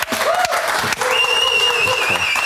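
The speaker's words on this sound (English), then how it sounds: "Round of applause, please." Steady, dense applause from a television studio audience welcoming a food-show judge, a continuous wash of many hands with a faint sustained tone running through it.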